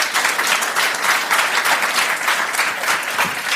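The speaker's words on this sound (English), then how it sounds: "So please give a huge applause to the panel." Audience applause for a discussion panel, a steady wash of many hands clapping at full strength throughout with no voices over it.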